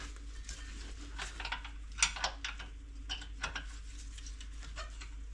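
Ratchet wrench clicking while tightening a brake caliper bolt on the rear brake of an Alfa Romeo Giulia Veloce, a few bursts of close metallic ticks with brief pauses and a low steady hum underneath.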